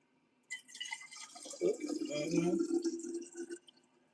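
Tea poured from a pot into a cup at home in the morning, a close, trickling, splashing stream lasting about three seconds, with light drips as it starts and stops.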